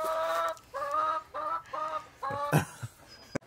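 A hen clucks close by in a home setting, about five rhythmic, throaty calls in quick succession, with no talk over them.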